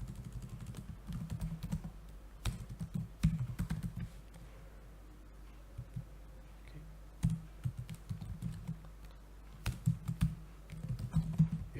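Steady typing on a computer keyboard while writing a unit test, with bursts of quick, close clicking keystrokes separated by brief pauses, and no talking.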